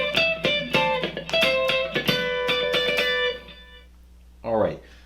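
Funky electric guitar rhythm part from a song, played as choppy strummed chords that ring for about three seconds, then a short spoken remark follows.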